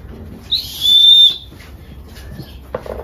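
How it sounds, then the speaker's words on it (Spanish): A traditional Mexican clay toy whistle gives a short, shrill, high-pitched blast of about a second, close and clear, against a quiet background. "Tenemos también la temática del juguete tradicional, que son los silbatos."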